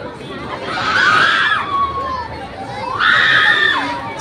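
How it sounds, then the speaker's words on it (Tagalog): Riders scream together on an amusement park ride at a Manila mall, two loud swelling waves of high-pitched shrieks from a crowd a short distance away, each lasting over a second. "Kaya talagang magsisigawan sila dun."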